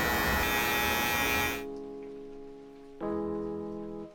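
An electric hair trimmer with a 1 guard and lever open runs through hair during a haircut, a loud steady buzzing drone that dips quieter midway and then surges again, close by with no talking.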